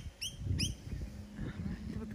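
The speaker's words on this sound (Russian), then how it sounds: "Розелла, розелла, розелла, чирикает, сидит розелла." A rosella parrot outdoors gives two quick, bright chirps near the start, faint and brief, while a person talks quietly underneath.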